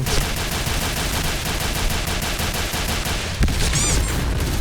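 Rapid automatic gunfire from a shooting video game rattles in a fast, even stream of loud close shots, with a brief break and a sharp burst of impacts and ricochet-like whines near the end.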